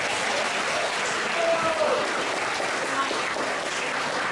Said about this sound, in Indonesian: Sekali lagi tepuk tangan untuk mereka.